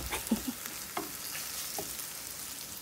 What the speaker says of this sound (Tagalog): Grilled mushroom. Grilled sa mantika na olive oil.